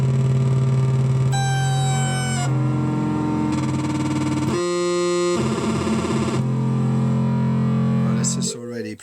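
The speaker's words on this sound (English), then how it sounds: "it's like a distortion" An Echoblender delay pedal fed back into itself makes loud, dense distortion, layered buzzing tones shifting in pitch and texture in abrupt blocks before cutting off at the end.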